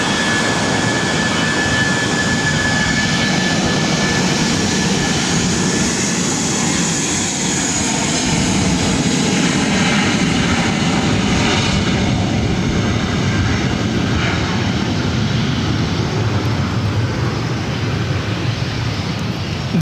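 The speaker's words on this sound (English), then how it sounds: "This is Spirit Airlines 2699 taking off to Las Vegas on an A320." A Spirit Airlines A320 jet takes off at LAX bound for Las Vegas, a loud, continuous roar of engines that holds steady and close for the whole stretch, with no voices.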